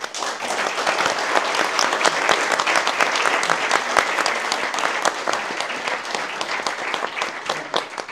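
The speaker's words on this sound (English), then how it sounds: "big applause, please, to Klub Investor" An audience at an investment talk event claps steadily for the organizers, a continuous dense patter of many hands with crisp individual claps standing out, sustained at an even level for the whole stretch.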